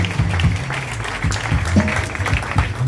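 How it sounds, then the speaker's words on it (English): Church congregation clapping during a wedding ceremony, a steady, dense patter of many hands carrying on throughout, mixed with voices or music underneath. "Please clap, church, clap."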